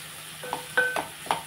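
A spoon stirs a mixture in a pot for buttermilk rasam (majjiga charu) just after asafoetida goes in, making a few quick, faint scraping and tapping strokes close by.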